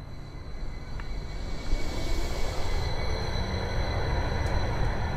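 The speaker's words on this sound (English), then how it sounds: "The next train to Tunnelly Avenue is now arriving." A train rumbles into a station with a low roar and faint high wheel squeal, steady and fairly close, with no speech.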